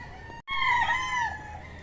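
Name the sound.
roosters crowing and chickens clucking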